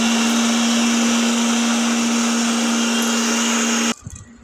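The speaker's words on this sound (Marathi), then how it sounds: "मग रात्री हे मिक्सरमधून काढायचं" Mixer grinder grinding soaked urad dal for idli batter, a loud steady whirring motor whine heard up close that runs for about four seconds and then cuts off, leaving faint clatter.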